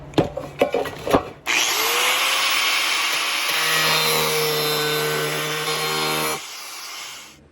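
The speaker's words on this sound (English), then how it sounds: "I'm going to take my angle grinder" An angle grinder with its guard removed cuts notches into a metal pot, whining loudly and steadily for about five seconds after a few sharp knocks, then cutting off abruptly.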